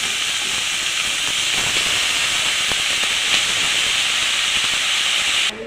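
Washed khesari greens hit a hot pan over vegetables fried with mustard, poppy seed and coconut paste, giving a strong, continuous sizzling hiss that cuts off abruptly near the end.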